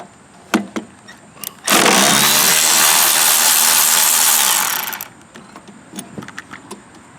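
A handheld power tool whirs loudly for about three seconds as it removes a bolt on a Honda Harmony lawn mower. Scattered clicks and taps of handling come before and after.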